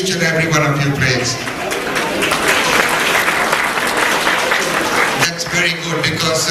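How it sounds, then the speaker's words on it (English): An audience at an evening event bursts into loud, sustained applause, dense clapping filling the room for several seconds before easing off near the end, with scattered voices in the crowd. "So round of applause to each and every one of you, please."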